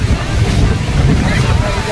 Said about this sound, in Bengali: দেখুন মেরিনা বিচের এই যে ঢেউ একেবারে মাথায় নিয়ে যাবে।